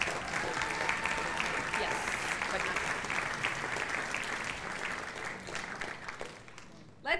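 An audience at a high school spring concert applauds steadily, dense clapping from a crowd that holds throughout and slowly fades near the end.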